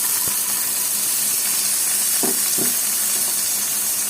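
Onions and a halved bay leaf fry in oil in a kadai, giving a steady, loud sizzle broken by a couple of brief utensil knocks.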